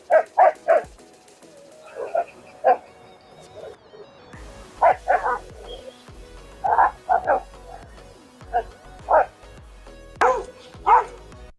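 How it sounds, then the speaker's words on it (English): Dogs at a dog park bark repeatedly in short clustered volleys, some close and loud and others farther off, with irregular gaps between bursts and a low background murmur throughout. "And there's some dogs in the background that'll soon come into the shot"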